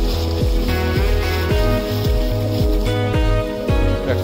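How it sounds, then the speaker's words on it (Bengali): Fishing trawlers arrive by sea near Dublar Char, their engines chugging in a loud, steady rhythm with regular repeating thumps about every half second and a constant low drone over water. "এখানে দেখেন আজকে আরো ট্রলার আসতেছে।"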